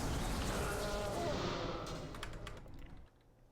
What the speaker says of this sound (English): Best I could do is pull out my keyboard and do a very weak keyboard solo